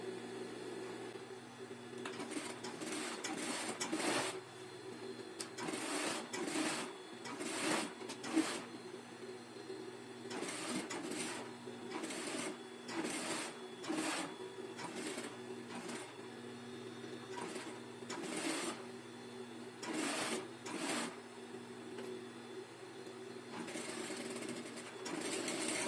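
A sewing machine topstitches a fabric kitchen set piece in short repeated bursts of rapid stitching separated by brief pauses, steady and moderately close with no talking.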